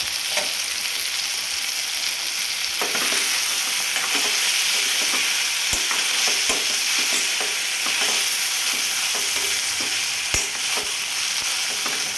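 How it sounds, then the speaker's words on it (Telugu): Eggplant and tomato curry stirred in a pot, a close, steady sizzle with scraping spoon strokes and a few sharp knocks against the pot, no talking. "కర్రీని కలిపేసుకుందాం."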